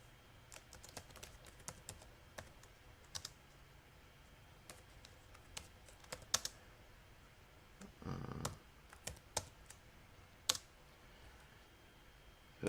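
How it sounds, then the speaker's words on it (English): Quiet, irregular tapping of keys on a computer keyboard, scattered clicks with a few louder strokes and a brief rustle, no voices. "let me start typing these in now"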